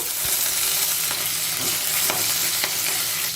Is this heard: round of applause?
no